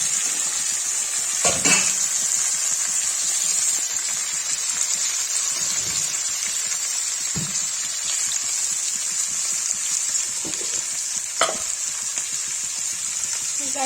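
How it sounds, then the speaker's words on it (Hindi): Cauliflower fries in hot oil with a loud, dense, unbroken hiss and crackle, close up, with a few brief scrapes or clatters of stirring rising above the steady sizzle. "तेल गर्म हो जाएगा गोभी फ्राई करेंगे।"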